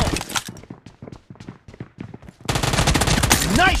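Rapid bursts of automatic gunfire from the PUBG video game, a string of sharp close shots at first, then a denser, louder barrage with game effects layered in.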